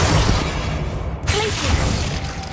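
A Confringo spell explosion in a Harry Potter video game: a loud, dense booming blast that briefly cuts out and then surges again, with no talking over it.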